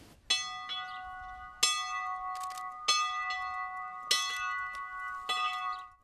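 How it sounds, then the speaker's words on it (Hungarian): A church bell rings out in steady, evenly spaced strokes at Dombostanya, Hungary, on Whit Monday, each clear tone lingering and humming between strikes. "Messze zengő hangon szóló harangzúgás hirdetett ünnepet Dombostanyán pünköst hétfőn."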